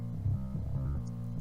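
Sub bass track with an EQ cut removing everything above 100 Hz, a deep, steady low-end throb playing alone for a moment.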